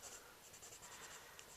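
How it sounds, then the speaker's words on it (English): Faint, steady scratching of a pencil being worked across a paper card, with a continuous soft hiss and small strokes touching up the center of a stamped flower. "I'll bring in my pencil here, and I'll just touch up the center"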